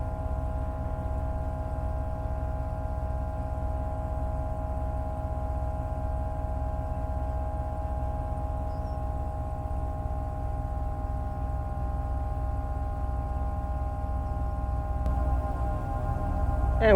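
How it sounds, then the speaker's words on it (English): Air compressor on a Ford F-250 battalion chief fire truck runs as a steady, loud, even mechanical hum with a constant drone throughout, rising slightly near the end. "You can hear that air compressor kicking on right now."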